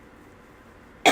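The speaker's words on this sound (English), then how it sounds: "sorry about the coughing" A single short, sharp cough bursts out close at the very end after near silence.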